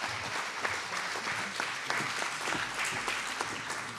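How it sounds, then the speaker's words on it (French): Steady applause from a sizable crowd at an academic conference, dense clapping that fills the whole stretch at an even level. "merci à vous pour cette première partie de questions, on peut l'applaudir"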